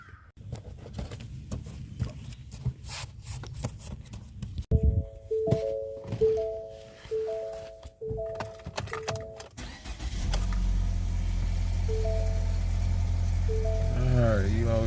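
A 2015 Ford Fusion with a 1.5 turbo engine: clicks and a repeating electronic chime, then the engine cranks and catches, settling into a steady, close, low idle with a few chimes over it.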